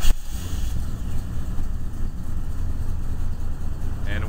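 A Jeep Grand Wagoneer engine cranks briefly then settles into a steady, rough idle, close and loud, rumbling low throughout with a faint squeal near the end.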